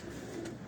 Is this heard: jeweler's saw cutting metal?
no